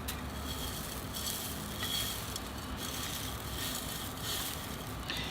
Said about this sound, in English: Keep adding more soil.